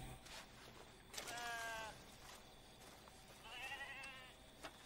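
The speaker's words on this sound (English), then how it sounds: "I can hear sheep." Sheep bleat in the video game Red Dead Redemption 2, two wavering calls a couple of seconds apart, moderately close over a quiet outdoor ambience with no talking.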